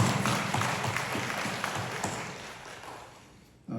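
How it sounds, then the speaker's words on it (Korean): A church congregation at a Sunday service clapping together, a moderate wash of applause that gradually fades before a brief bump at the end. "우리 박수로 환영하겠습니다."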